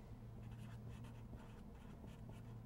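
A pen or pencil writes out a math equation, a continuous close scratching with short rhythmic strokes over a low steady hum, with no talk.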